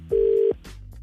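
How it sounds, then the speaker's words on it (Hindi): A single telephone keypad tone sounds for about half a second while a call is being placed, followed by faint clicks and line noise. "सीमा हैप्पी, फोन कर रहा हूँ उनको।"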